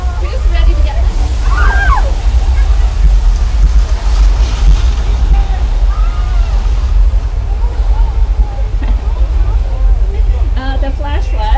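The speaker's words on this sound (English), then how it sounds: "The flash flood is the result of thousands of gallons of recycled water being released from on top of the hill." Thousands of gallons of recycled water surge down a hillside in a staged flash flood on the Universal Studios Hollywood tram tour, a loud continuous sloshing rush that runs throughout, with people talking over it.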